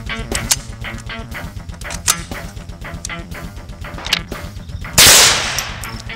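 A .22LR handgun fired at a bulletproof vest, heard as a single sharp crack near the end. Before it come scattered clicks and clatter over a low mechanical hum.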